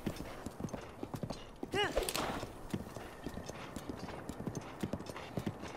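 Horse hooves clip-clop steadily while riding along a path in the video game Zelda: Breath of the Wild, with a brief neigh and a voice talking over the galloping rhythm.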